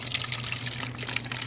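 Liquid poured into a plastic spray bottle, a roughly 20% share of milk mixed with Epsom salt and molasses as an aquaponics cannabis nutrient and pest spray; a steady, close trickling splash runs throughout with no talk.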